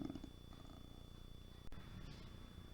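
A domestic cat purring close by, a low steady rumble that continues for nearly three seconds with no talking over it.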